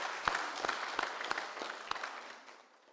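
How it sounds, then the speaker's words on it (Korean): Applause from a church congregation at a Sunday daytime service, a moderate patter of many hands with a few sharper claps standing out, fading away toward the end. "코로나 바이러스로부터 지켜주신 하나님께 우리 감사의 박수 한번 합시다"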